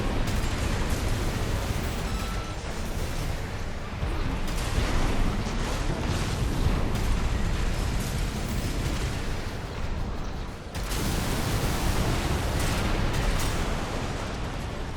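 Dense, rumbling blasts and booming explosions in the video game Armored Core 6 pile up continuously, loud and chaotic, with a brief dip before the barrage resumes.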